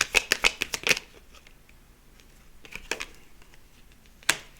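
Tarot cards are shuffled and drawn. A quick run of close, crisp riffling snaps opens the stretch, then comes a quiet gap with a few soft card slides, and a single sharp snap comes near the end.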